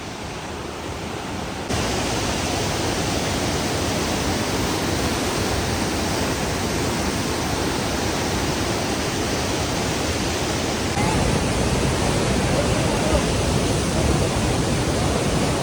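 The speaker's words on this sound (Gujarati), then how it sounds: "ખાલી પાણીનો વોય સાંભળો તમે." Loud, continuous roar of rushing river water at the Alaknanda-Dhauliganga confluence near Mana village, Badrinath, a dense broadband wash that swells slightly louder toward the end, with no voices.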